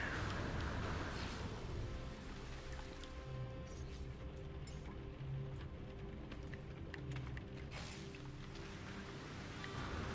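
Steady, even rain hisses continuously in the No Man's Sky video game, a dense wash of falling drops that holds at a constant level throughout without pause.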